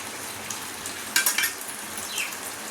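Chicken dhonnai biryani fries on a stove, a soft steady sizzle broken by a brief cluster of metallic clinks and scrapes from a utensil partway through.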